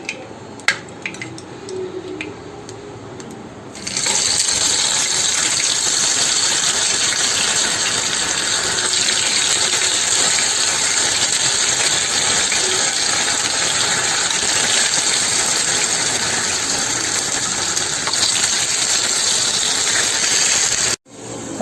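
Potatoes fry in hot oil and ghee in a pan for Kerala pepper potato fry, with a loud, steady sizzle that starts suddenly after a few quiet seconds and continues unbroken until near the end.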